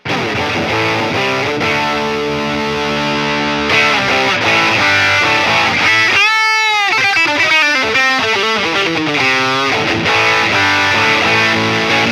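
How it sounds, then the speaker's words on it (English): An electric guitar runs through a Wampler Hot Wired dual drive into a Line 6 POD Go, playing loud, heavily distorted chords and sustained bent notes over a constant background hiss, with no talking. "I'll add more distortion, and you can hear the hissing."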